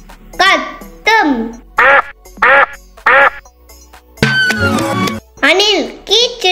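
A string of loud, nasal duck quacks comes in quick bursts, one after another, with a short harsher squawk in the middle.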